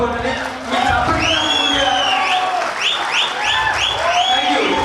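Audience at a live ventriloquism, magic and mimicry stage show bursts into loud, sustained clapping and cheering, with shouts and whoops rising over the steady applause throughout.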